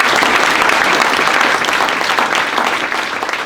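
Audience applause at a public library's 100-year anniversary ceremony, a dense, steady round of clapping from a crowd filling the room, loud and sustained, easing slightly toward the end.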